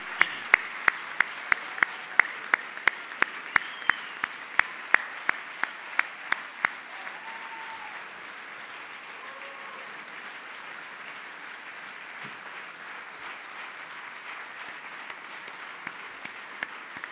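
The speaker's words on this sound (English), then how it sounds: "Congratulations, special round of applause." Audience applause at an EMBA graduation ceremony honoring dean's list graduates, with sharp scattered claps over a dense wash of clapping that fades to a softer, thinner patter by the end.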